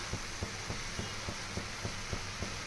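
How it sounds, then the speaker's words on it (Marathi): Ghevda beans dry-roasting on a tawa without oil, their water cooking off: a soft, steady sizzle with faint, regular ticking pops, quiet and close, with no talking. "आपण भाजी अशा प्रकारे तव्यामध्ये बिना तेल न टाकता भाजून घ्यायची आहे अगोदर."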